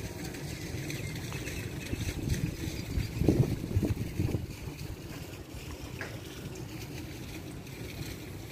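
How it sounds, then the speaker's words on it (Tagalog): Steady wind blustering against a window, a continuous low rumbling rush that swells loudest in the middle and then settles back to an even roar, with no voices. "it's very windy"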